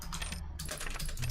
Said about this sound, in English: This is what it sounds like when I'm typing.